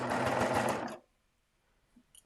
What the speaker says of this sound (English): So while you're sewing on the band,